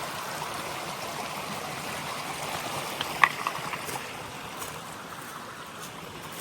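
A small stream flows into Little Wilson Stream in the wilderness, making a soft, steady rushing and trickling babble, faint and continuous with no talking.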